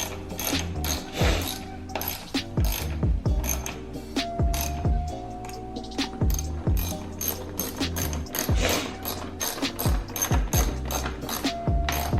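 Ratchet clicking steadily as bolts are tightened during a JLT intake and Hellcat lower manifold install on a Dodge Charger Scat Pack, close and loud with repeated bursts of pawl clicks and no talk.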